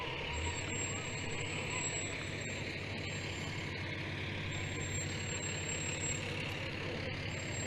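Fire trucks from a rural fire protection district roll steadily past in a chilly Veterans Day parade, a continuous heavy engine rumble with a faint high whine on top and no voices heard.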